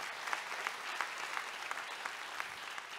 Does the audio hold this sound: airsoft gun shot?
no